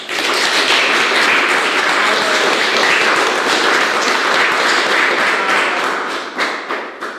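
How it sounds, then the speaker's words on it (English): A crowd at a panel discussion applauds loudly with dense, sustained clapping that thins out into a few scattered claps at the end. "give a big round of applause"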